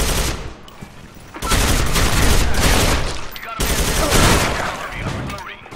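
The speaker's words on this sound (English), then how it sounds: "With the FAMAS, you could start shooting at the chest, and the recoil kind of puts it up to the head." Bursts of FAMAS assault rifle fire in the Soldier Front 2 shooter game, loud, dense rapid volleys in two long stretches with a brief lull between them.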